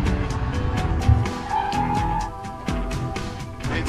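Parallel hybrid electric car braking hard on a test track, with tires squealing and skidding in a sustained screech over engine and road noise, close and loud.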